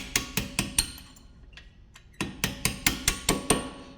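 Sharp metallic hammer strikes on a punch driven through a Brembo brake part during a brake job on a Cadillac CT6, landing in a steady rhythm of about ten close, loud blows with a short pause midway.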